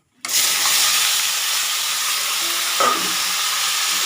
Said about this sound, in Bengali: গোটা জিরে আর তেজপাতা ফোড়ন দিয়ে দিলাম